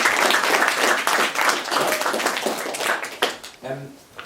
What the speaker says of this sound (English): So a round of applause, please, for Richard, our first opener.